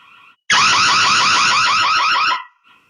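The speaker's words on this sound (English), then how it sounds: "Let's sound the alarm." A loud Noorio smart home security system alarm blares for about two seconds, a piercing warbling siren tone that cuts in abruptly and stops.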